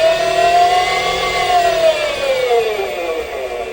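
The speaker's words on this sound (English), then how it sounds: "So turning the system on, we'll get variable RPM, and we can max that right up." A 56V P40 softwash unit running at maximum RPM gives a steady, loud whine whose pitch glides slightly downward, over a continuous motor drone with no talking.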